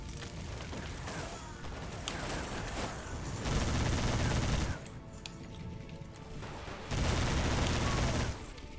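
Machine gun fire in Iron Grip: Warlord rattles in sustained, loud bursts that swell and drop back, with a steady background of battle noise and no talking.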